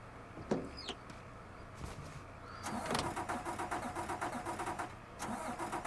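Truck engine in Mafia 3 coughs and sputters, then turns over repeatedly in a rapid, even cranking rhythm, loud and close, with a few clicks and scrapes before it catches.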